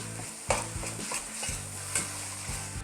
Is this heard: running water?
no